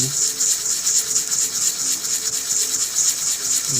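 An oboe reed is sanded with 100 grit sandpaper in steady, close back-and-forth rubbing strokes, an even gritty scrape with no pauses.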